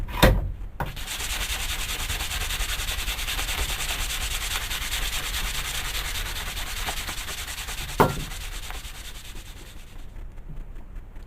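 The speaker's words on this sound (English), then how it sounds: "we're just going to take a piece of sandpaper and just work this edge smooth" Sandpaper is rubbed steadily along the edge of a wooden axe handle on a Cold Steel Trail Hawk, a continuous close scratchy rasp with a couple of brief knocks.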